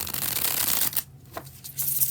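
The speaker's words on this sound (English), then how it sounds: "Let's get into the bridge shuffle" Tarot cards riffled together in a bridge shuffle: a dense, papery fluttering burst for about a second, then a short gap and a few softer riffles and card taps, close up with no talking.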